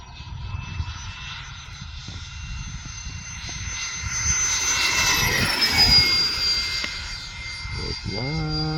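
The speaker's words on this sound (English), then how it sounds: "Give you guys a high-speed pass here" A Freewing A-10 80mm EDF radio-controlled jet on 7000 mAh packs makes a high-speed pass, its whining ducted-fan roar swelling as it nears and then fading, with a distinct Doppler shift in the tone.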